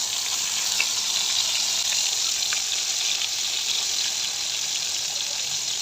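Koi fish (climbing perch) frying in oil in a pan, an even, constant hiss of sizzling that stays loud and steady throughout, with no voices.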